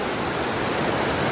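A swollen river rushing past, a loud, close, unbroken roar of churning water that holds steady without pause and has no voices over it.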